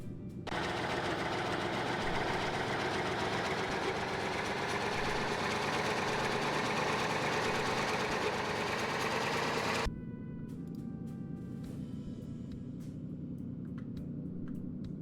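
A tank engine idles in a simulator game, a dense steady drone with mechanical rattle that runs loud for about ten seconds, then drops to a quieter muffled rumble with faint clicks.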